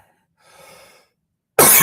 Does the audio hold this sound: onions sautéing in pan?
no